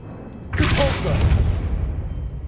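Depulso spell cast in the Hogwarts Legacy video game: a sudden whooshing magical burst with a deep boom that rings out and slowly decays, heard alone at moderate volume.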